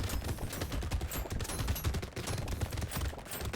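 Rapid, dense bursts of automatic gunfire from turrets in the arena shooter Brotato, a continuous loud volley of overlapping shots with no pauses across the whole stretch.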